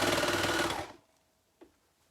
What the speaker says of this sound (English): I'm going to go over to the overlocker and overlock those quickly for you.